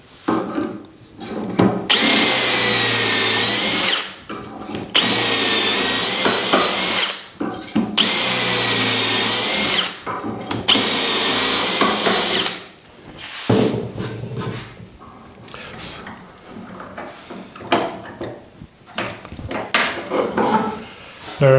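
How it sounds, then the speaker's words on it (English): A power drill bores dowel holes into wood with a Dowelmax jig in four loud, sustained bursts separated by brief pauses, followed by lighter handling clatter and knocks. "Now we're going to drill, in this case,"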